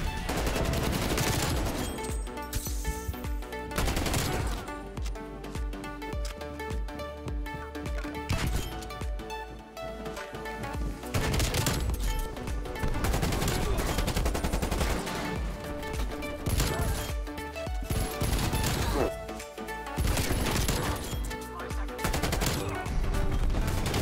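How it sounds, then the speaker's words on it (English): Krig rifle fire in a Call of Duty game: loud, dense bursts of rapid automatic gunfire repeat throughout, broken by brief pauses, with crashes and game effects layered over the continuous shooting. "the Krig is just one of those guns that shoots so straight"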